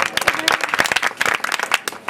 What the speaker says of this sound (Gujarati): જોરદાર તાળીઓથી વધારી દો